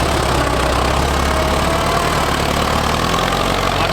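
Engine of a Hino 175 dump truck running at a steady idle, a loud, continuous low rumble with faint knocking and vibration, close by, with no voices.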